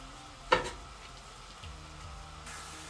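Onions sizzling in hot oil after a clatter as they drop into the pan, a steady frying hiss continuing close by.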